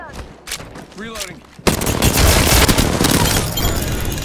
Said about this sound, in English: just heard that guy's head explode so many times